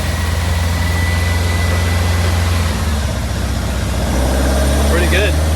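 VW Beetle engine running during a test drive, a loud steady low rumble close by that shifts pitch partway through, with a faint squeak near the end.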